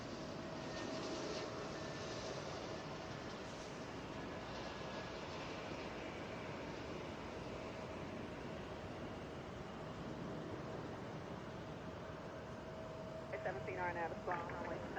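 A fixed-wing airliner at Atlanta airport gives a steady, fairly distant engine roar that holds throughout, with faint tower radio chatter heard underneath.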